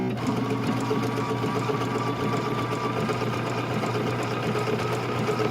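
A Bernina sewing machine stitches a zipper bag with a steady, fast mechanical whir and hum that stays even throughout.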